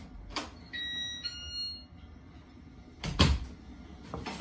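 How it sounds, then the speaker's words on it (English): A GE Networx alarm panel gives a short electronic door chime of a few high tones as a door opens, framed by nearby door clunks and handling noises. "That means when you open the door, you'll have a chime."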